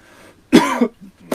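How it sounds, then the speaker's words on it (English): A man coughs once in a short, harsh, close burst with a throaty rasp, preceded by quiet room tone. "just a little bit of coughing there"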